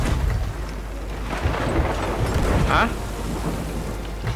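A thunderstorm in the Sea of Thieves video game gives a steady roar of rain and rumbling thunder with a louder swell near the end, while a voice speaks briefly over it.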